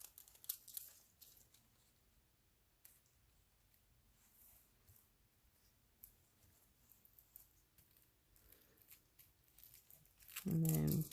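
Star-patterned craft foil for decorating a rock is handled with soft, faint crinkles and tearing sounds, ending in a louder rustle. A voice talks intermittently over the handling.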